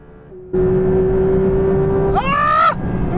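Engines of drag racing cars, one passing a BMW, a steady loud drone with a rising revving whine near the end as a car accelerates past.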